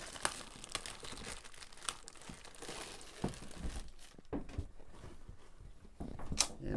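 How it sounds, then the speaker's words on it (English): Plastic packaging from a KINGHE 200W commercial solar street light being cut open with a knife, heard as close crinkling and crackling with a few sharp tearing snaps, fairly quiet and continuous, with no speech. "Get my knife back out and cut this plastic it come in."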